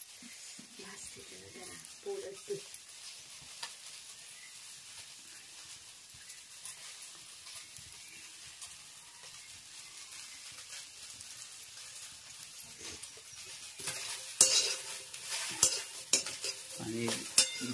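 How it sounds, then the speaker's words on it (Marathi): Village okra (bhendi) frying in a pan with kokum, a faint continuous sizzle with occasional stirring clatter, growing louder and more active toward the end, with some background voices. "भेंडी भाजून घेते पहिले"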